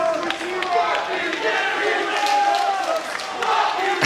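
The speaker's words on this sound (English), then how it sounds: "he gets that chant everywhere he goes" Wrestling crowd at a House of Hardcore show chanting at AJ Styles, a loud, rhythmic mass of voices filling the hall with steady pulses and occasional shouts rising above the roar.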